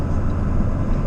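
Steady low road rumble and engine drone from inside a pickup truck with the windows rolled up, cruising on a faster road; continuous and fairly loud, with no talking.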